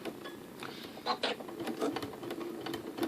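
Janome Skyline S7/S9 sewing machine fitted with a ruffler foot, stitching fabric in a short run of mechanical chattering bursts that are moderately loud, close and steady, with no talking.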